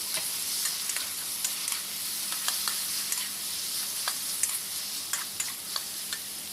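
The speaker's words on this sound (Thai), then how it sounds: "ลงไปผัดให้หอมครับ ตามมาด้วยลูกชิ้นปลาที่ลวกไว้เมื่อสักครู่นะฮะ" Blanched fish balls stir-fried in a wok with pounded garlic and chili, a steady hiss of frying broken by frequent light scrapes and clicks of a spatula, close and continuous with no talk.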